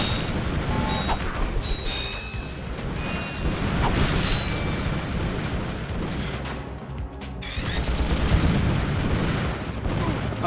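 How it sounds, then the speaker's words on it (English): Explosions and booms in the Ratchet & Clank video game, set in a dense, continuous mix of mechanical clanking, ratcheting and gunfire-like bursts that swells louder near the end. "That explosion caught me off guard."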